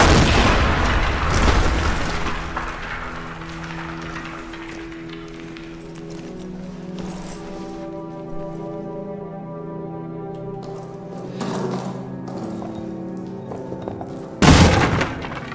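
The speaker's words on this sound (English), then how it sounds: "I blew up a hole into the Roman tunnels, I think." A heavy explosion blasts a hole into Roman tunnels in the horror game Amnesia: The Bunker, a booming opening blast that rumbles and fades into a low droning tone, then a second sharp bang near the end.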